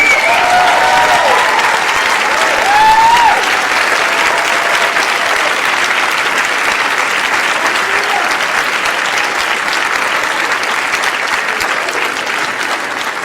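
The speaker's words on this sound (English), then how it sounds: "please be upstanding and give a round of applause to Mitch Glazer and Bill Murray" An audience at Twitter HQ gives a standing round of applause for Mitch Glazer and Bill Murray, dense, sustained clapping filling the room for over thirteen seconds, fading slightly toward the end.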